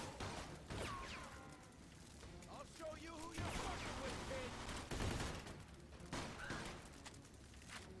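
Rapid gunfire crackles from a shooter video game, bursts of shots under an excited voice commentating, fairly close and moderately loud.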